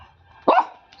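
A tied-up dog lets out one loud, close bark that stands out sharply against a quiet background.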